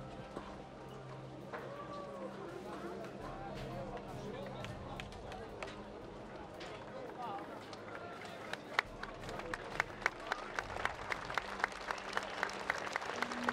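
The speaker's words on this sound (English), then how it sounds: "There's a good response there from the crowd." Crowd applauding a fighter at a Battle of the Nations 2016 medieval combat event, a steady far-off clapping that swells and grows sharper toward the end, with a commentator speaking over it.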